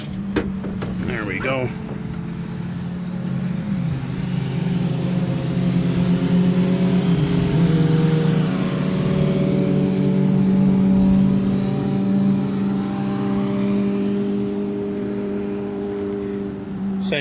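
The original engine of a 1971 Dodge Coronet idles steadily up close with a low droning hum, swelling through a few moderate revs before settling, while someone talks briefly near the start.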